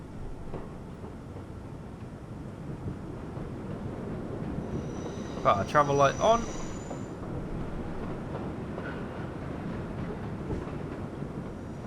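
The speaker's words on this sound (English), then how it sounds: "we are an express train" Express subway train in World of Subways 4 running out of Grand Central toward Times Square, a steady broadband rumble throughout with a brief squealing tonal burst midway, under someone talking.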